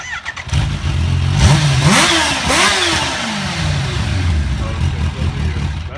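Kawasaki H2 motorcycle engine cranks and fires up close by, then revs in two sharp rising sweeps before settling into a loud steady idle, with voices talking over it.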